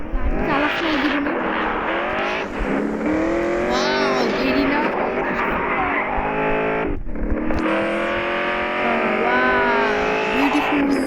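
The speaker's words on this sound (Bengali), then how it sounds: "আমি কিন্তু গ্যাংস্টার 4 এই গেমে গাড়ি চালানোতে এমন প্রো" Car engine revving and tires squealing while driving in the video game Gangster 4, loud and continuous with a short dip, and someone talks briefly over it.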